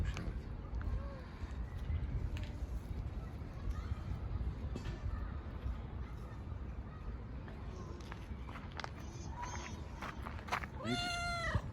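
An ailing cat with an infection gives several short meows, sharpest near the end, over soft outdoor noise, with a person speaking quietly nearby.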